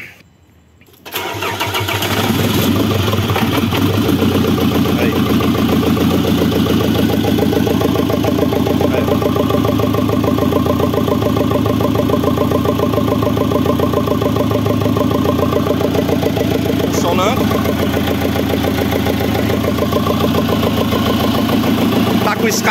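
A Fiat Ducato van's diesel engine runs at a steady, rough idle with a rattling, chuffing loose exhaust, loud and close, after a brief quiet start.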